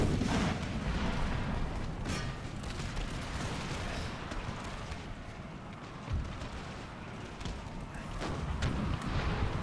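Cannon artillery fire in the video game Empire Total War, a dense rumbling barrage of booms over continuous battle noise, with no speech.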